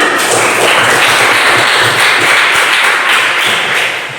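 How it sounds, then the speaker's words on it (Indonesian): Students in a classroom clap together in a dense, steady patter of close, loud hand claps that holds for about four seconds and then thins slightly at the end, with no talking. "Jadi tepuk tangan untuk kalian semua."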